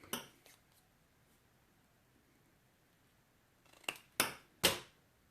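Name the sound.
scissors trimming recycled cardboard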